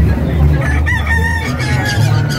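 Close, loud rooster crowing at a livestock market, a drawn-out cock-a-doodle-doo with market chatter and background noise underneath.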